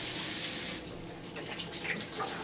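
A wet Norwex Enviro microfiber cloth under a running tap, a steady broad rush of water that cuts off and gives way to softer trickling, dripping and squeezing sounds.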